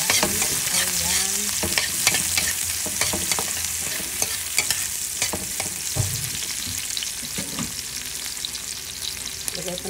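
Onions frying and being stirred in a pan, a steady loud sizzle close by with repeated scraping and clattering strokes from the stirring utensil throughout.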